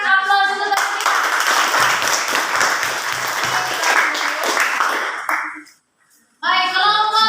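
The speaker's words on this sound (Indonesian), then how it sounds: "Oke, berikan aplaus untuk kita." Classroom audience clapping after a group presentation, a dense burst of many hands for about five seconds that stops abruptly, with speech heard just before and after.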